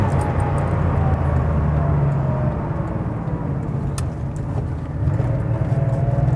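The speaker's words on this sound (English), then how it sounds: "Listen to this downshift." A 1989 Porsche 911 Carrera engine drones steadily on the road, its pitch dropping and rising as the driver downshifts into a curve.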